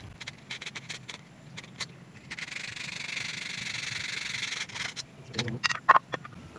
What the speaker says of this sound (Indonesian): Ya, amplas sedikit.